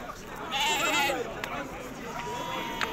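Sheep bleat at the Saturday livestock market in Aguelmous, Morocco, one loud nearby bleat rising over a crowd murmur and traders talking, with fainter bleats after.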